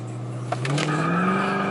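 A 2015 Dodge Charger R/T on 26-inch Forgiato wheels spins its tires in sport mode with traction control on, a short burst of squealing rubber over a steady, loud engine drone.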